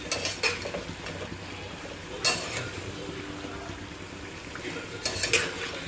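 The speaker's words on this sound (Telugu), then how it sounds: "చూడండి ఎంత బాగా ఉడుకుతున్నాయా." Bondas (fritters) cooking in a pot for a Bonalu festival feast: a steady low bubbling sizzle runs throughout, broken by a few sharp clinks of a ladle or utensil against the vessel, with no talking.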